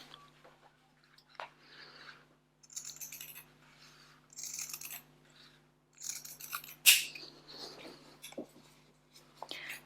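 Scissors snip through denim fabric being cut into pieces for an upcycled crochet bucket hat, a series of crisp close cuts with scraping rustles between them, one sharper snip standing out.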